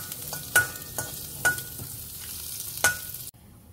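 Jackfruit with garlic cooks in a pan on low heat, a steady close sizzle broken by three or four scraping stirs of a spoon, ending abruptly in near silence.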